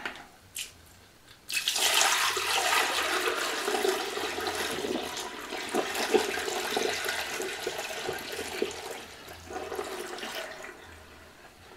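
Water poured out of a container during cleaning of the keys of an NCR 250 cash register, a steady splashing, gushing stream that runs loud and close for about ten seconds after a brief start.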